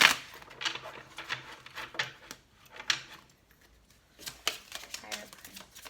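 Tarot cards are shuffled by hand close by, a series of light papery slaps and riffles in uneven bursts, fairly quiet, with a voice speaking between them.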